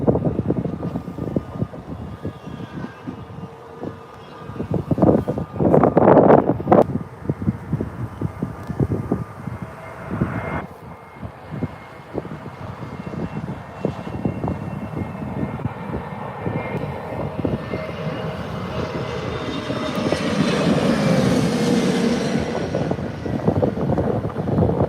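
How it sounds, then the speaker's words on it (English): An EasyJet airliner from Geneva lands at Manchester Airport, its engine roar growing and swelling as it approaches, with wind buffeting the microphone and the engines still loud at the end. "EasyJet from Geneva, just about to touch down now."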